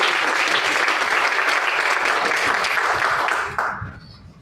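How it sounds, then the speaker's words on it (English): Audience applause at a community conversation event, a full room clapping steadily for a few seconds before it quickly dies away. "let's give him a round of applause as well."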